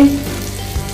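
Ginger hits a hot pan for a crab and coconut milk dish, giving a loud, close, steady sizzle that fills the short moment alone without any speech.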